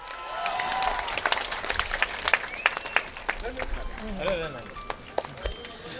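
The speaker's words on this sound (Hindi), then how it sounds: "जोरदार तालियां बजाइए।" Crowd at a political rally in India claps and cheers unevenly, with scattered sharp claps and shouts over a murmuring crowd, voices talking throughout.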